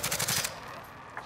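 Rapid automatic gunfire in Call of Duty Warzone during a sniping exchange, a loud burst of several quick shots in the first half second, then fading to a quieter rumbling tail with a faint late shot.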